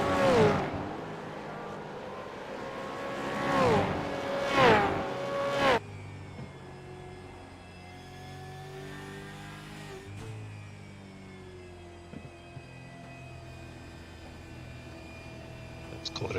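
A V8 race car's in-car engine sound in a racing video game at Magny-Cours, heard as a steady, quiet engine drone. Early on, louder revving swells rise and fall under talk.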